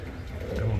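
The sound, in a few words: racing pigeon cooing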